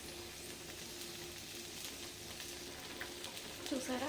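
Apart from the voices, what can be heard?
okra (bendakaya) frying in a pan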